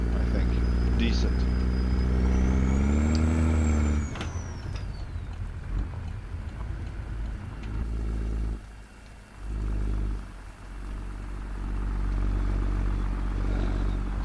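Peterbilt 379 diesel truck engine hauling a triple B-train cattle load in a trucking video game, a steady low rumble throughout with a rising whine early on and brief dips, heard under speech.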